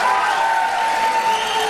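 A short burst of audience applause breaks out at a 2012 congressional debate. Even, fairly loud clapping runs throughout, with a steady ringing tone audible underneath.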